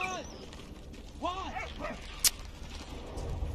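Dog barking and whimpering in the Valiant Hearts: The Great War video game, short yips and whines rising and falling over game sounds, with a sharp click partway through and someone talking.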